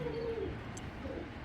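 A pigeon gives low, soft coos, steady and close, with a faint chirp in the background and no talking.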